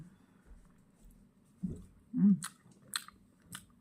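Fresh raspberries being eaten, with a few soft, close, wet chewing and biting sounds spread across a few seconds between quiet pauses.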